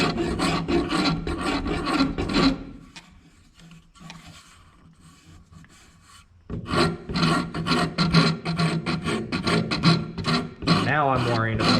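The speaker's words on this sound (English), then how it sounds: "we're just using a half round file, not a rasp, to take this out and to shape it" A half-round file rasps back and forth across a wooden axe handle, shaping it in steady, close strokes. The filing goes quiet for a few seconds, then resumes in a fast, loud rhythm.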